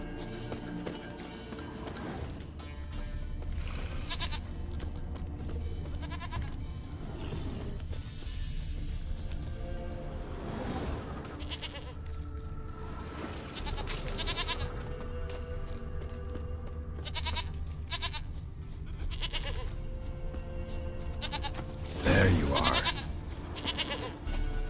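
A goat bleats several times at intervals in The Witcher 3 amid outdoor ambience and hoof clops, with one louder, closer cry near the end and no speech.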